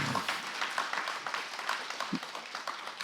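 A small audience applauds after a business testimonial about recyclable packaging, with scattered, distinct claps at a moderate level that thin out toward the end.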